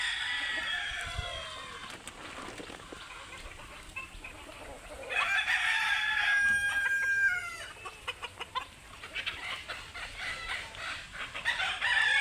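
Fighter roosters on a crowded poultry farm crow loudly and repeatedly, long strained calls overlapping with clucking from the flock around them.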